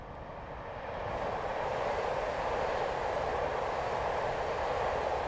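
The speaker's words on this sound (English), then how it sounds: "the old engine's giving it a good old go" The traction motors of a British Rail Class 455 electric train in a train simulator game build to a steady, broad mechanical roar that holds constant, continuous and fairly loud with no talking.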